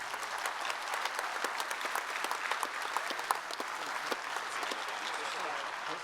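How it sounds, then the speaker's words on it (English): Keynote audience applause fills the hall, a steady, dense patter of many hands clapping at even loudness throughout, with no voice over it. "One more round of applause, please."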